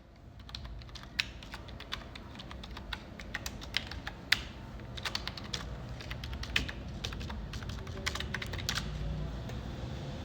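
Computer keyboard typing of a login ID and password: rapid, irregular clicking keystrokes close by, steady throughout with no talking.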